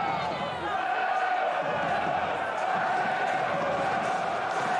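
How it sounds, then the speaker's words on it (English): A rugby crowd at the Oyonnax v Valence Pro D2 playoff match makes a steady loud roar of cheering and shouting that fills the stadium throughout. "judging by the noise from the crowd, this is going to be a spicy one."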